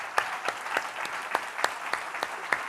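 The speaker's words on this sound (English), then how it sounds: "let's give her a round of applause" Conference audience clapping as a storytelling speaker comes up to the stage at an opening general session, steady moderate applause with distinct individual claps close by, no voices.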